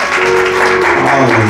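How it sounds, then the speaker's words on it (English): A church congregation applauding a woman from the congregation, a dense burst of clapping close by that fills the short moment, loud and continuous with no talk over it. "Let's give Sister Lucy a round of applause."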